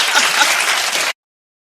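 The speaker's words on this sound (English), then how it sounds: "some of our imaginary audience started clapping prematurely" Bright, dense applause from a pretend audience, a steady wash of many clapping hands lasting about a second before cutting off abruptly into silence.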